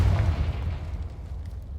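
A Confringo spell blasts in Hogwarts Legacy, a single heavy boom with a rumbling low tail that fades over about two seconds.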